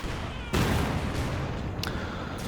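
A German Pak 40 anti-tank gun fires on a Pershing tank in Company of Heroes 2, a single heavy blast followed by rumbling battlefield noise, loud and fairly close.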